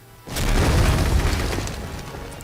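A heavy, rumbling mine explosion in the video game 1944 Winterschlacht in den Ardennen bursts suddenly and roars for a couple of seconds before slowly fading, with no talking.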